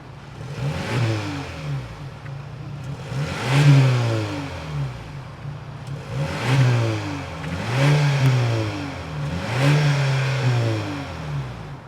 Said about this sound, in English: that was the sound of the 2-liter turbocharged 4-cylinder engine sold by Lincoln for the 2025